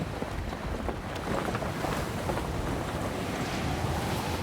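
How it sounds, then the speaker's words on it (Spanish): Waves break in a bay near the port of Marseille under a strong Mistral wind, a steady close rush of surf with gusty wind buffeting throughout. "las olas comienzan a romper en la bahía"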